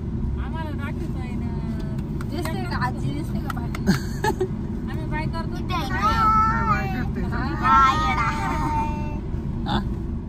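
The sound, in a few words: heavy traffic near Jejuri temple during fair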